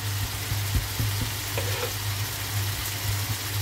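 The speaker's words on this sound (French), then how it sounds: "Bien laisser cuire ma viande. Avec les oignons et tout et tout et tout." Ground meat and onions frying together for tacos, a dense steady sizzle with occasional soft stirring knocks, close and continuous throughout.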